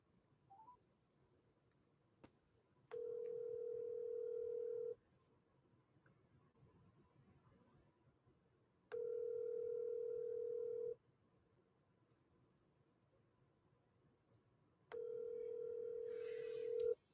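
A telephone ringback tone repeats three times at even intervals, each ring about two seconds long with quiet gaps between, clear and close with no talking.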